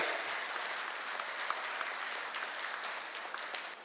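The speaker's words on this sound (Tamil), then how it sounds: "ஒரு உற்சாகமான கரகோஷத்தை கொடுங்க" Steady, dense applause from a sizable crowd at a formal award ceremony in Vellore, continuing at an even level throughout.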